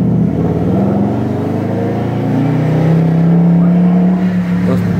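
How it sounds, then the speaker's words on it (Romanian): Engine of a BMW 7 Series, said to sound like a muscle car, revving close by in a loud, deep, sustained rumble that rises in pitch as it climbs, with no talk over it. "Se aude a muscle car"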